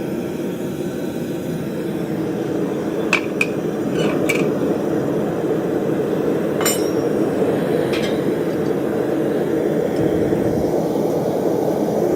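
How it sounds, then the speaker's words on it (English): A forge roars steadily while heating a horseshoe, its broad rumbling hiss filling the whole clip, with a few sharp metallic clinks in the middle. "I'll pop that in the forge, start getting that warm"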